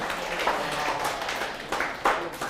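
An audience claps in a lecture hall during a middle-school math study talk, producing a steady patter of applause at moderate volume.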